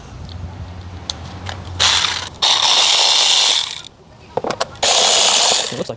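A ratchet wrench loosens 10 mm bolts on a 2007 Toyota Corolla engine, giving close, loud bursts of rapid clicking separated by short pauses, with a little faint background noise between strokes.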